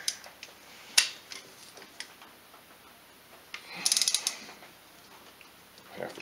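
A wrench loosening and then tightening a cylinder head bolt on a Polaris 500 engine gives sparse, quiet clicks, with a quick rattling burst of ratchet ticks in the middle.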